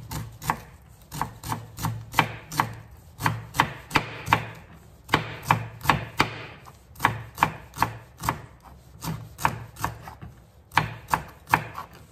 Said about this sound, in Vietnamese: Rồi Lan lấy cái ngò, cái cọng ngò Lan sắt cho nhuyễn đi.